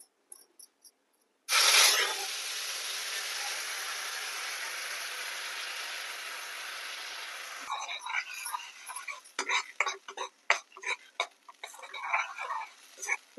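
Tomato-onion paste hits hot oil tempered with nigella seeds and a loud, steady sizzling hiss erupts, holding for several seconds before giving way to scattered clattering taps and softer crackles.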